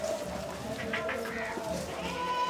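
Goats bleat at a breeder's pen, thin wavering calls rising over a steady crowd murmur and speech, with several overlapping cries mid-clip.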